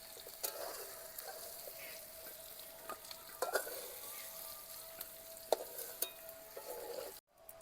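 Carrot, potato and drumstick pieces frying in oil give a continuous soft sizzle, broken by scattered scrapes and clicks of stirring, all fairly faint and close.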